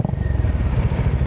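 A Bajaj Dominar 400 motorcycle engine rumbles steadily and loudly nearby, a deep pulsing idle with some mechanical clatter.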